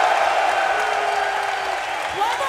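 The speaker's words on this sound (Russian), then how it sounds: "И аплодисменты всем 16 командам" A large arena crowd applauds and cheers at the grand final of an esports tournament, The International 5, with a steady dense roar throughout while a commentator talks over it.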